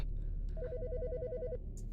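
A telephone in the video game Autopsy Simulator rings with a single rapid trilling burst of about a second, clear and close against a low background hum.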